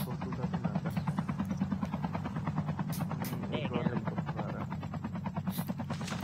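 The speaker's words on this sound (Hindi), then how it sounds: "यार मैं आपसे छोटा सा ये हेलीकॉप्टर लेना है" A helicopter in the mobile shooter Call of Duty Mobile thrums with a steady, fast rotor chop under ongoing game sounds, with a few sharp bangs mixed in.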